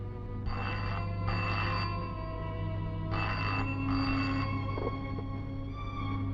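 A telephone rings in repeated paired bursts, two rings, a pause, then two more, over a steady low hum.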